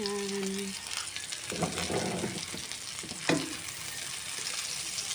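Garlic, ginger and onion sautéing in a hot pan, a steady close sizzle with a few stirring scrapes and clinks, and no voice over it.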